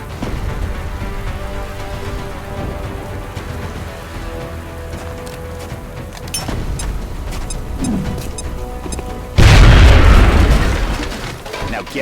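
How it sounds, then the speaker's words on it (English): A grenade blast in the strategy game XCOM: Enemy Unknown: a sudden loud, broad explosion bursts over a steady game soundscape, then a rumbling debris tail fades out over a few seconds. "Now toss your grenade at the enemy in front of you."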